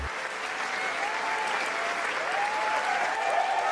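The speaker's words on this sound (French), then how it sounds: "Applaudissez, applaudissez, applaudissez" Audience at an African crypto investment event breaks into sustained applause, a dense, steady wash of many hands clapping that holds evenly throughout.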